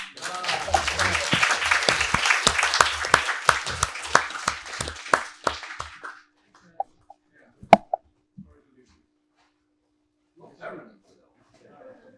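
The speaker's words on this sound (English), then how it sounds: "And let's applaud him." Steady applause from a crowd at a talk on disinformation and fake news fills the first six seconds, then fades into a few scattered claps and near silence.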